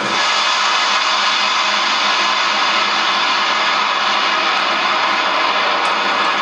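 Airplane flying over Malé International Airport in the Maldives gives a loud, unbroken jet roar that holds steady throughout with no voices.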